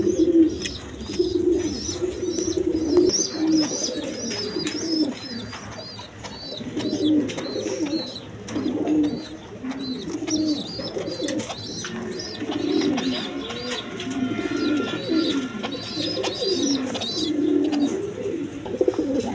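Pigeons coo repeatedly in low, rolling phrases, close by and fairly loud, with faint chirps and bird chatter in the background.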